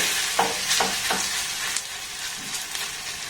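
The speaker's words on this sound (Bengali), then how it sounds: "এইভাবে একটা ফ্রাই প্যানে যতগুলো ধরবে ততগুলো দিয়ে ভেজে নেব" Cabbage fritters sizzle in hot oil in a frying pan over a low flame, with a steady crackling hiss and a few soft scrapes of stirring or turning.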